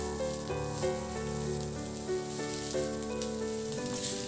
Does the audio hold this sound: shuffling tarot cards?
no